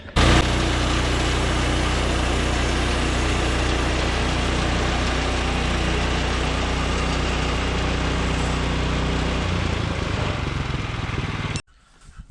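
A Woodland Mills sawmill makes a cutting pass through a log, its engine droning loudly and steadily for about eleven seconds, the low tone shifting near the end before it cuts off abruptly.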